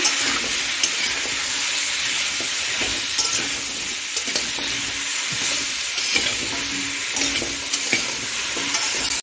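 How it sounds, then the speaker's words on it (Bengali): Close, steady frying and sizzling of vegetables with salt and turmeric in a hot pan while being stirred, with scraping strokes scattered throughout and no talking. "ভালো করে নুন হলুদটা সবজির সঙ্গে মিশিয়ে নিচ্ছি"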